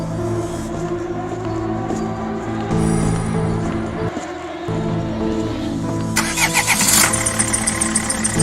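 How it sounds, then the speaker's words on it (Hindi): A car engine cranks and catches, then idles and revs up as the vehicle pulls away, a steady mid-pitched hum with a brief dip and rising rhythmic pulses near the end, no voices. "गुल्ली बुल्ली गाड़ी में बैठकर शॉन के घर की तरफ निकल जाती हैं"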